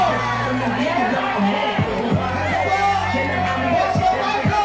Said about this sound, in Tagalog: narinig niyo na ang inyong palakpakan ng kasamang sigawan